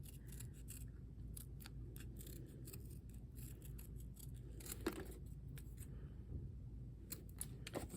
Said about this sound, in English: so long as I cut the point right next to the fun foam